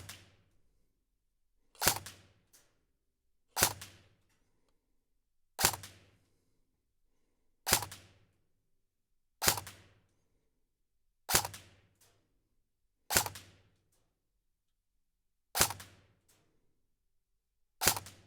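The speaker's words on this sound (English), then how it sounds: "I'm gonna take 10 shots, center mass at the number 3 target, and we're gonna see how well this gun shoots" Ten single shots from an Arcturus MK-1 AEG airsoft gun are fired at a target 15 yards away, each a sharp, crisp snap at an unhurried pace about two seconds apart, separated by near-silence.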